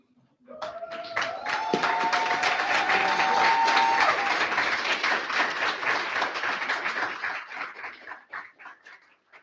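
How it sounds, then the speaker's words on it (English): A roomful of people breaks into applause, with clapping that swells quickly, holds strong, then thins out into scattered claps. "I'm sure you deserve a big round of applause"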